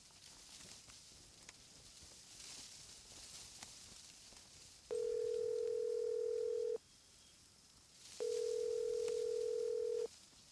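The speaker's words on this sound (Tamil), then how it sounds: "பெத்த அம்மா தானே ஃபோன் பண்றேன், எடுத்து தொலைக்கலாம்ல" Telephone ringing on an unanswered call in a 1982 Tamil film, two long steady electronic tones, each about two seconds, over a quiet room with faint rustles.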